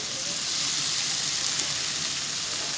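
Chopped yardlong beans sizzling as they fry in a pan with spiced potato and tomato, a steady, even hiss that holds without break from start to end.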